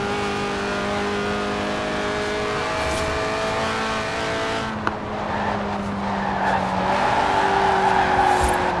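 Lotus Elise Sport 190 with a 1.8-litre engine revving to 8,000 RPM in Forza Horizon 4, a sustained high-revving engine drone with gear changes and some tire squeal, loud and steady throughout.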